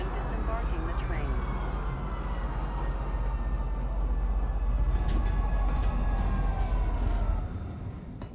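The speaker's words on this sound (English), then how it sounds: "Please watch your step when disembarking the train." A metro train pulling into a station in Star Citizen, a steady loud rumble with squealing rail and brake tones that rises and then eases off as the train stops.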